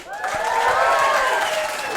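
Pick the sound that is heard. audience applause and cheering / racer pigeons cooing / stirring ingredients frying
audience applause and cheering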